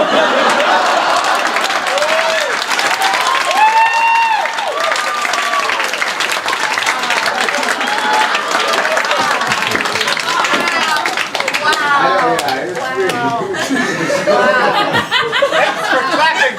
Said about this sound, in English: Thanks for clapping for that